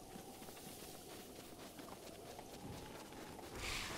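A giant, very powerful horse galloping under a rider in The Legend of Zelda: Breath of the Wild, a quiet rapid patter of hoofbeats over a steady rushing background.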